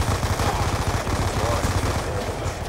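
Rapid automatic gunfire from a Call of Duty Black Ops II multiplayer match rattles in loud continuous bursts, close and dense, with no speech over it.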